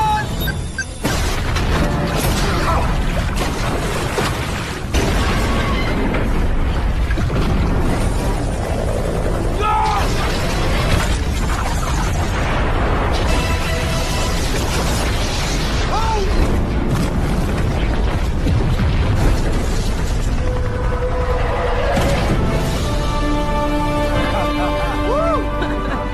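Booming explosions from bombs set throughout a building in an action film, loud and continuous over dense score and effects, with heavy rumbling bursts and crashes running through the whole scene.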